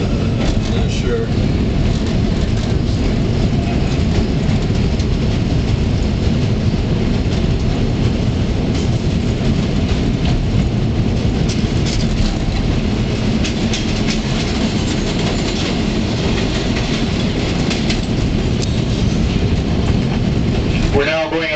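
A train rumbles across the Tower 18 rail junction in Chicago's Loop, with continuous loud rolling clatter and rattling wheels on the track held through the whole stretch.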